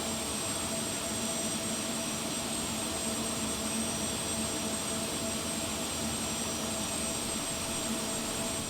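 Carenado 390 Premier 1A jet engines running in X-Plane 11 flight simulator, a steady, even turbine whine and rushing hum that holds constant without variation.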